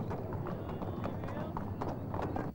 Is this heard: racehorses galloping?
yes